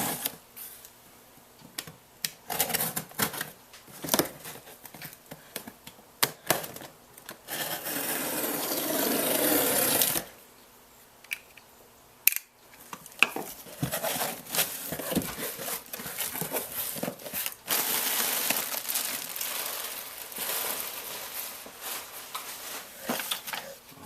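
Packaging of a Harbor Freight Pittsburgh 10-piece torque limiting extension bar set being cut and torn open: close, irregular scraping, rubbing and ripping sounds in bursts, with brief quiet pauses between.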